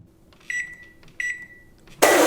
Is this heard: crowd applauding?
no